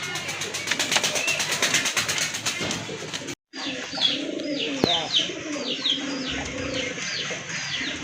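Domestic Bangladeshi deshi pigeons of tiger colouring coo repeatedly at close range, their soft rolling calls mixing with chirps and a brief wing flutter against a busy background.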